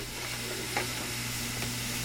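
A pot of dewberry jam mixture made from juice is brought to a boil over high heat and stirred constantly. It gives a steady, low bubbling hiss with a soft spoon scrape or two, with no voices.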